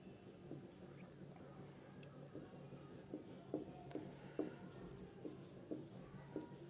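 A pen writing a physics definition by hand in Hindi, with soft, faint scratchy strokes and occasional light taps repeating over a low steady background hum.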